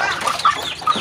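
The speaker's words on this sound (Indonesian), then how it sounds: "Tuh, ayam." Chickens cluck repeatedly at close range in a rural yard where jackfruit and sapodilla are being harvested, short busy calls over a noisy outdoor background.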